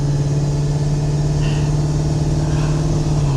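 A Ford Excursion's 7.3 diesel engine drones steadily and loudly from inside the cabin, a constant low hum with no talk.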